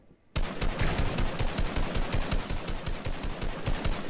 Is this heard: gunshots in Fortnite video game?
yes